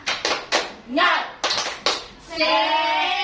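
Several sharp hand claps in a quick rhythmic pattern, interrupted by a short spoken cheer, then a voice calls out at the end.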